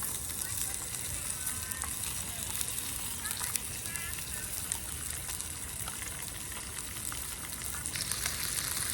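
Bluegill fish and torn wild ramps fry in butter in a stainless steel pan, giving a dense, constant crackling sizzle with faint scraping underneath.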